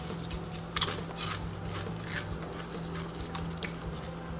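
A few crisp crunches as someone bites into a Wildroots organic red quinoa chia tortilla chip, close and sharp, followed by softer chewing crackles over a quiet steady hum.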